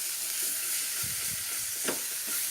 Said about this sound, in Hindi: अभी इसमें जो धनिया पाउडर था मेरा वो मैंने ऐड कर दिया। इसे अच्छे से मिक्स कर लें।